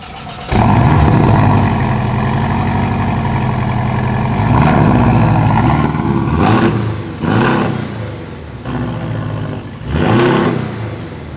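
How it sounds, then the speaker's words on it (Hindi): A Porsche 718 Boxster with a sports exhaust starts with a loud bark, settles into a rumbling idle, then blips its throttle in three sharp revs, close and alone. "718 boxer, start the car and see the exhaust."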